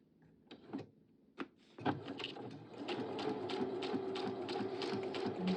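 A sewing machine stitches straight and curved practice lines. A few clicks and taps come first, then the motor starts up into a steady, close whirring hum with rapid needle chatter that keeps running to the end, with no talking.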